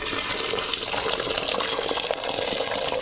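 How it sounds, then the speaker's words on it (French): Boiling water poured into a pot for couscous, a continuous close gushing and splashing fill that stays steady and loud throughout. "je vais mettre de l'eau bouillante."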